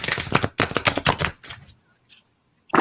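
Tarot cards riffle and slap in rapid bursts during a shuffle, loud and close, pausing briefly before a final quick flurry; no one speaks over it.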